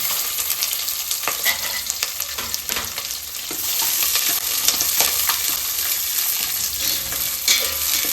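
Onions and curry leaves fry in oil in a pan, a steady close sizzle with occasional stirring scrapes throughout, loud and continuous with no talk.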